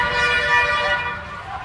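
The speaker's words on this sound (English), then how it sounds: "Are you waking up with the sound of a honking? Constant honking." Busy morning street traffic in Jaipur, Rajasthan, with a dense tangle of car and vehicle horns honking nearby, overlapping tones sounding continuously for a moment.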